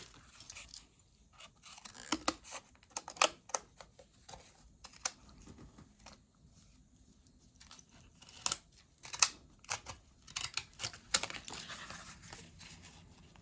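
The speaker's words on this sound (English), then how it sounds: "these scissors aren't the easiest for me to use" Scissors cut paper to a scalloped edge for a two-ring flip journal, giving quiet, irregular snips and crinkles in scattered bursts with no talk.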